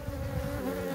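A dense, steady buzz of many honey bees droning together up close at a hive in September, continuous and fairly loud.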